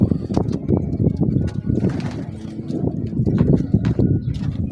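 Pigeons coo and flutter close by in a busy loft, with soft wing flaps and shuffling over a constant low murmur.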